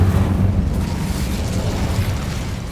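A deep rumbling fiery burst from an Incendio fire spell cast in the Hogwarts game, loud and roaring at first and then settling into a sustained low crackling whoosh.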